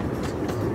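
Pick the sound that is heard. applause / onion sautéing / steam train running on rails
steam train running on rails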